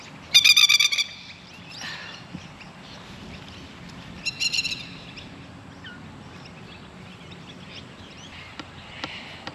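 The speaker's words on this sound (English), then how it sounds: "Watch this bird. Hey man, go away." A plover in a garden gives two loud bursts of rapid, shrill piping calls while swooping, close by, with quieter chirps and outdoor background between them.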